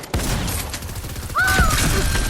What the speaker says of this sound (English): Default shooting me from inside.